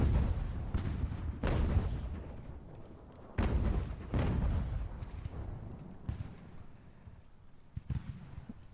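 Cannon fire from Revolutionary War field artillery (three-, four- and six-pounders) shelling enemy guns in Ultimate General: American Revolution, with about eight heavy booms at irregular intervals, each rolling out into a rumbling decay, and no voices.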